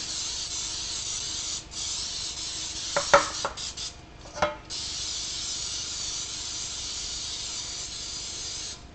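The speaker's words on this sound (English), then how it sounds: "let's go ahead and give these a spray." Short bursts of cooking spray hiss onto baking pans against a steady background hiss, with a couple of light clinks from a pan in between.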